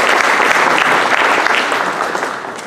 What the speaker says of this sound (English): please give a warm round of applause for Julian Price.